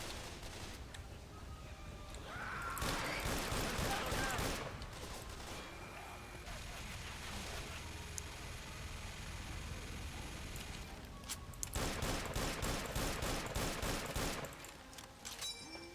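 Bursts of gunfire in Left 4 Dead 2, dense rapid volleys around the middle and again near the end, loud and close over a steady in-game background.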